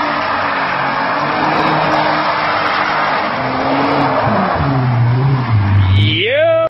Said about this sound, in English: This madman does some all-wheel drive windmill donuts in his Audi TT Quattro.